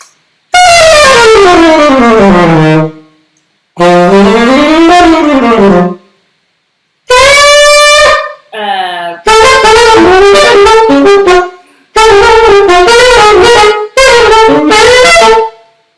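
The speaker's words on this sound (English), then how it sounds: "the bebop scales, which sound like this." A baritone saxophone plays quick running bebop scale phrases in several separate bursts with short gaps between them, loud and close, with no accompaniment.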